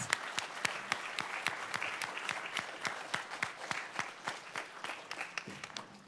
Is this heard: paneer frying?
no